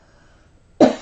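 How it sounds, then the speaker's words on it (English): A single sharp, close cough bursts out near the end after near silence, loud and brief, from a woman giving a tarot reading. "Excuse me, my famous cough during the reading."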